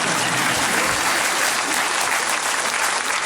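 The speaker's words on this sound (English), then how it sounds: "We had to have applause and laughter." Canned applause and laughter effect played from a soundboard on a talk show, a dense, steady wash of clapping crowd noise at full level for the whole stretch with no voices over it.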